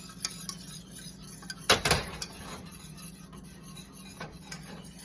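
Thickened tangzhong being stirred in a pot, with soft scraping and a few sharp clinks of utensil against metal, one louder knock cluster near the middle, over a quiet background.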